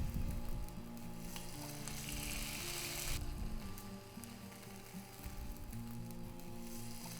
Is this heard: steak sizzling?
yes